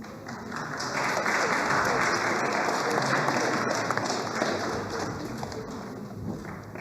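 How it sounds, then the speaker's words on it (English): Sustained applause from an audience honoring champions at a health care innovation awards ceremony, steady and fairly loud throughout, with some bird-like chirps or coos mixed into the texture. "A big round of applause to our champions."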